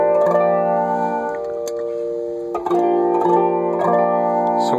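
BYOC flanger pedal with a modded mix circuit processing sustained chords, giving a steady swirling tone that runs continuously and loud, with a few picked accents, close up and without talk.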